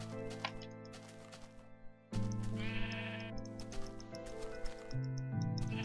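Sheep bleat in a video game over a constant backdrop of layered game music, with several short bleats spread across the clip at moderate loudness.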